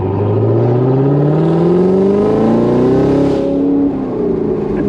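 A car's engine revs through an AWE touring exhaust with an X-pipe, rising in pitch over several seconds and then easing off, loud and close with no talking.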